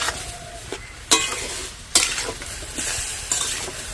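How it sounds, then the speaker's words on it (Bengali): Tomatoes cook down for ketchup in a pan, a soft continuous sizzle under slow stirring, with several distinct spatula scrapes and clinks against the pan spaced about a second apart. "এইভাবেই নাড়তে থাকবো আস্তে আস্তে টমেটোর যে জল বেরোবে সেই জলে কিন্তু টমেটোটা সেদ্ধ হয়ে যাবে"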